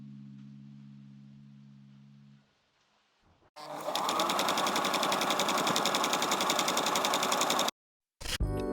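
A sewing machine runs steadily and loudly for several seconds, stitching a French seam on a slip top, after a brief low hum and a pause. It stops abruptly and then restarts for a moment.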